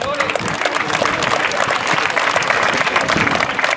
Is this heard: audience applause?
yes